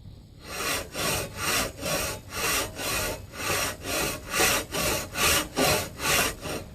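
A hand saw held in a two-handed grip resaws a wooden board, making about fourteen even back-and-forth strokes in a steady rhythm, close and clear with no talking.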